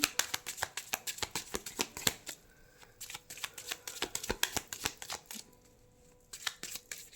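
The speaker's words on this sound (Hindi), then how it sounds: "मैं पहले कार्ड निकाल लेती हूँ" Tarot cards are shuffled and drawn by hand, giving rapid crisp riffling clicks and slaps in quick irregular bursts, close and fairly quiet, with a short pause before more card handling.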